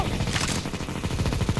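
Rapid, dense gunfire rattles continuously in the Counter Striker video game, a quick burst of overlapping shots filling the short moment.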